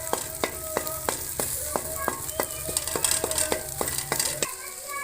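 Egg fries in a pan for egg fried rice, a constant sizzle punctuated by a quick, regular series of sharp spatula taps and scrapes against the pan's surface.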